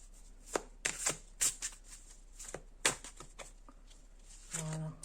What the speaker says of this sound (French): je mélange un petit peu pour aller chercher la carte